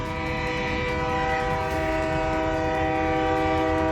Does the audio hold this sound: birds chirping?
no